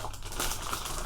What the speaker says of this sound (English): Sorry, I know that crinkling drives some people nuts.